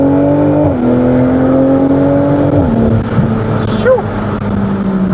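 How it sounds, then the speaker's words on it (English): Exhaust of a 2019 BMW Z4 M40i accelerating with the top down, a loud close engine note that climbs in pitch, drops at each gear change and climbs again, with wind rushing around it. "You really get to experience the elements, you hear the sound of the exhaust."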